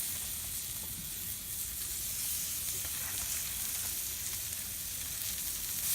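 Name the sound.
ribeye cap steaks sizzling on grill grates with canola oil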